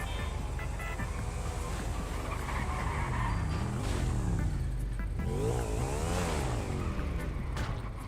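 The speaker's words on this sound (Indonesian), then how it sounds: "Ini motor kencang nggak sih, Man?" A motorbike engine revs in GTA V, rising and falling in pitch through repeated sweeps over a steady, loud drone of driving noise with game effects.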